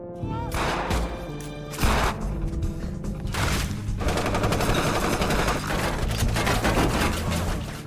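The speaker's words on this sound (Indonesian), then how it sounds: "aksi bebedilan pun terjadi" Rapid automatic gunfire and sharp bursts rattle through a film shootout with a Donnie Yen gangster triad, layered over a dense, loud soundtrack for the whole stretch with no clear pauses.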